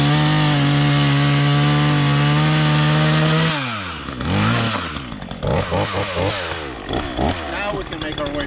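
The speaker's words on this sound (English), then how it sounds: "we made quick work of that log with the chainsaw" A chainsaw buzzes at a steady high idle, then bogs down and revs unevenly as it cuts through a fallen tree log blocking a trail, loud and close, with a voice speaking over the later part.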